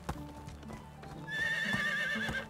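Horses in the medieval village-building game Medieval Dynasty, with clip-clop hoofbeats and a drawn-out whinny rising over a soft game ambience, all fairly close and clear.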